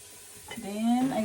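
Chicken legs hit hot oil in a pan and start to sizzle and crackle. The frying grows louder within a second.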